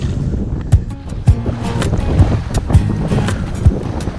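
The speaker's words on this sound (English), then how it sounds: "This wind is crazy, guys. Very, very difficult." Strong wind buffets and roars steadily on an open boat during fishing, with rhythmic gusty thumps and a noisy rush throughout, loud and close with no voices.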